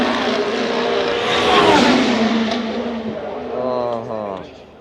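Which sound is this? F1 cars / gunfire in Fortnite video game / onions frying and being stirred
F1 cars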